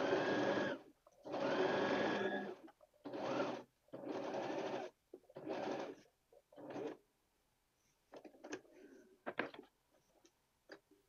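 Sewing machine stitching the front bodices of a garment to their lining, running in several short bursts of a second or so with pauses between, then quieter clicks and handling noises.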